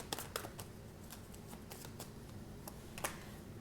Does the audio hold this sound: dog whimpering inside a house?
no